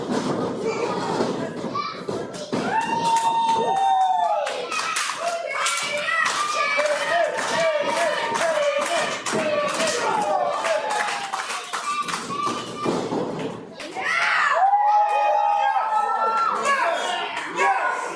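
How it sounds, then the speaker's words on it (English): Crowd at an independent wrestling show cheers, shouts and claps rhythmically throughout, with high-pitched kids' voices prominent in the noisy arena mix and a commentator talking over it. "The crowd getting behind him."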